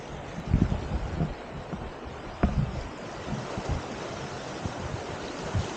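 Waves wash onto Tanjung Balau beach in a rocky cove, a continuous surf roar with a few soft breaking swells and light wind noise, heard alone without voices.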